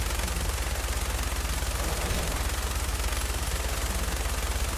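Minigun fire in the Fallout 4 video game, a continuous loud rattling burst that runs steadily the whole time with no pauses.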